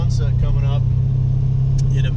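A 2010 Chevrolet Camaro SS with a Kenne Bell supercharger cruising on the road, its engine a loud, steady low rumble heard from inside the cabin, with someone talking over it.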